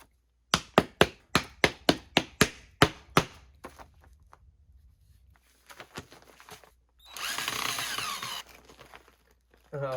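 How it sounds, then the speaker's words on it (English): A hammer knocks repeatedly on a concrete coaster still in its mold, about ten sharp, evenly spaced loud taps, followed by scattered faint knocks and a burst of broad noise. "I didn't think tapping with a hammer would absolutely crack the bejesus out of it."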